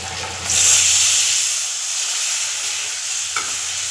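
Ground onion paste sautés in a pan for an egg kurma, giving a loud, continuous hiss and sizzle that swells after a moment and then holds steady, with one faint clink near the end.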